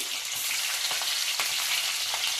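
Green chillies, cumin and mustard seeds fry in hot oil for vegetable upma, a steady close hiss of loud sizzling with faint crackles and pops throughout.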